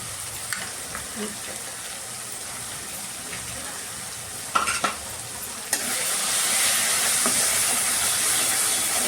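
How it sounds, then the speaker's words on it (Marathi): Chicken curry with tomato and wet coconut paste frying in oil while being stirred, with faint sizzling, a few sharp scraping knocks of the spoon, then a louder sustained hiss that holds to the end. "चांगलं एकजीव करून तेल सुटेपर्यंत आपल्याला चांगलं शिजवून घ्यायचं आहे."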